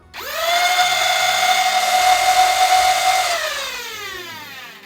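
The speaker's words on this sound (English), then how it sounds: "to fire this blaster, pull the trigger back a little bit, it will rev, pull the trigger back all the way" A Worker Phoenix 2.0 Nerf blaster revs up with a rising whine, holds a loud, close motor drone for about three seconds while firing full auto, then winds down.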